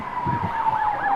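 An ambulance siren sounds loud and close during a morning escort to Santo Yusuf hospital, its wailing tone sweeping up and down over a steady whine, with no talk.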